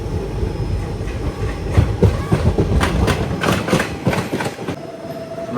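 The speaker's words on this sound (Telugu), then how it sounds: "ఇక్కడ కూడా ఒక 1 minute అయితే ఆపి మన ట్రైన్ అయితే స్టార్ట్ అయిపోయింది" The Chennai Mangalore Mail passenger train rolls along at speed, its wheels beating a loud, steady clickety-clack over the rail joints with a brief metallic squeal near the end, and no voices.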